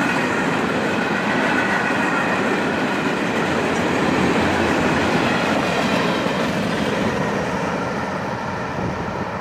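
A CSX freight train of empty slab flat cars rolls past close by, a steady, dense rumble with continuous wheel clatter and rail noise that holds loud through the whole stretch without pause.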